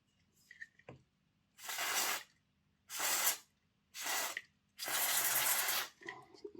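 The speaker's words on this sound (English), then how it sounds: "So we'll let that contact cleaner evaporate off" Contact cleaner sprayed onto an Oxford Rail Class 415 Adams Radial model train motor: four loud, close aerosol hisses of about a second each, the last one longer, separated by quiet pauses and small clicks.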